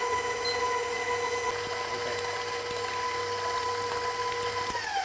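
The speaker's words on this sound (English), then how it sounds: "into the mixer, medium speed," A stand mixer runs steadily at medium speed, beating pumpkin bar batter with a continuous whir and faint hum; the motor tone holds even throughout with no talking.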